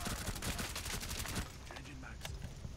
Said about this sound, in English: Why'd you shoot me?